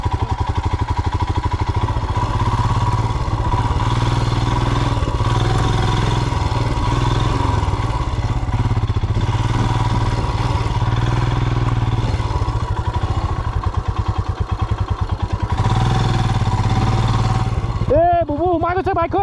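A Royal Enfield Himalayan motorcycle rides off-road, its engine running steadily and close throughout with some clattering and thumps over rough ground, while people talk over it.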